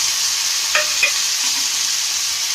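Potatoes and carrots fry in a pan of spiced oil for aloo matar while a spoon stirs them, a steady sizzle broken by two sharp scraping clinks near the start.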